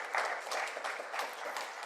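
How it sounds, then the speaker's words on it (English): Audience applause at a climate conference, a steady patter of many hands clapping at moderate volume, continuing without a break. "a big applause for Lydia Tamellini"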